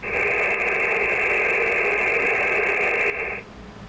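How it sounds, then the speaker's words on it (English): Steady hiss of normal atmospheric static from an Icom M-802 marine radio with the volume turned up and no signal coming in, loud and even for about three seconds before dropping away. "I'll turn the volume up and all you'll hear is normal atmospheric static."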